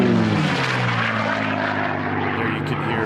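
An unlimited class racing airplane roars past at a national championship air race, its loud propeller engine drone filling the whole clip with a sweeping, slightly falling pitch as it goes by close.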